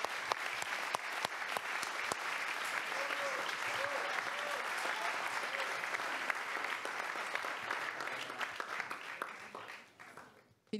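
Audience applause at a closing plenary award ceremony, dense and sustained for about ten seconds before fading out. A few faint voices sound beneath the clapping.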